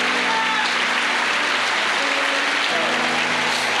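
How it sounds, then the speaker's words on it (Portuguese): Congregational clapping in a church, a steady dense wash of many hands filling the room from start to finish, with a sustained musical tone or hum running underneath. "dê uma salva de palmas ao Senhor"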